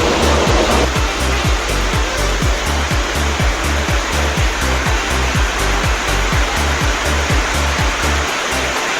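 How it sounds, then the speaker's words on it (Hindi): Dense, roaring heavy downpour fills the scene, steady and loud, with a rhythmic low thumping from a locomotive engine underneath. "तो फुल टू बारिश हो रही है अभी, आप देख सकते हो ऊपर से पूरा बारिश आ रहा है।"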